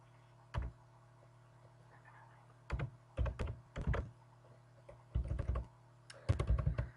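Keys clatter on a computer keyboard in separate short bursts of rapid typing with pauses between, close by over a low steady hum and no talking.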